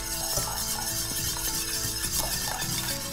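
A whisk stirs a chocolate mixture for a Mississippi mud pie in a pot, making soft scraping swirls and occasional light metallic clinks, quiet and close, without speech.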